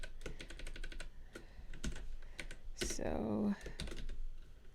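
Rapid clicking of keys on a computer keyboard during a coding session, steady bursts of typing close to the microphone with someone speaking briefly partway through.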